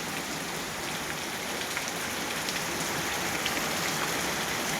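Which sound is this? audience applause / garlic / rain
rain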